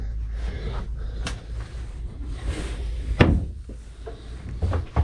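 A bedroom door in a Forest River Quailridge 39ASL park model RV swinging shut, a single sharp wooden thud near the close, with faint knocks and room noise around it and no talking.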